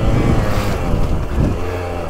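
A 2022 KTM 125XC two-stroke dirt bike with an FMF Factory Fatty pipe and Power Core 2.1 silencer revs hard and loud up close, a dense continuous engine roar pulling through its rev range with no pauses.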